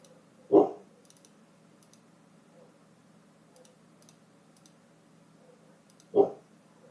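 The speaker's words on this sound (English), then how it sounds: "He's upside down barking right now." A dog indoors, lying upside down, gives two short muffled barks about five seconds apart in an otherwise quiet room.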